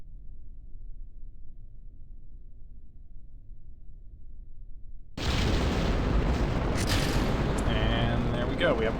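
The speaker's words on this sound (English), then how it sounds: "And there we go, we have liftoff." A rocket with solid rocket boosters lifts off in Kerbal Space Program, a sudden loud, roaring blast that cuts in after several seconds of near silence and keeps rumbling steadily.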